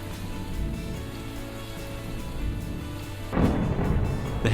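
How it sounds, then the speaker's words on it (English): Severe thunder and lightning roll over a golf course during an amateur championship, with a steady low rumble building into a louder crack and wash of noise near the end. "thunder and lightning."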